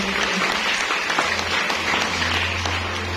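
A church congregation at a Christian sermon breaks into loud, sustained applause, a dense and even wash of clapping close by with faint crowd murmur beneath it.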